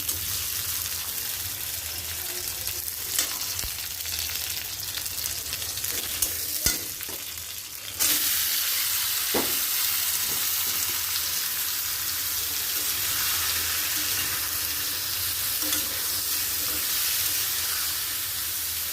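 Ginger, garlic and vegetables sauté in a hot pan, giving a constant loud hissing sizzle with occasional stirring knocks, and the sizzle surges brighter partway through, no voices.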